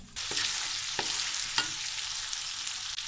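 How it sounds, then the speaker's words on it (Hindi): Beef mince frying with vegetables in a pan gives a steady, close hiss of sizzling, with several sharp spatula taps and scrapes spaced through it. "कीमे के साथ सब्जियां भी हमारी अच्छी तरीके से भून चुकी हैं।"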